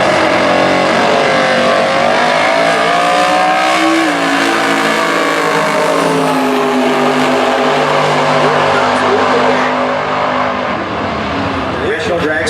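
Super Gas drag race cars, including a 1971 Vega wagon, roar loudly and steadily, engines rising in pitch with revving, under an announcer talking throughout.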